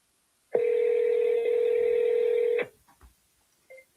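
A telephone rings out on a call to a realtor, one long steady tone lasting about two seconds, loud and close, followed by quiet.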